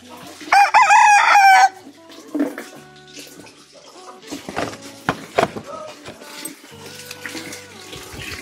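A rooster crows loudly and close by at the start, followed by scattered clucks and fowl calls from newly bred chickens at a rural Filipino home, with water splashing and faint voices in the background.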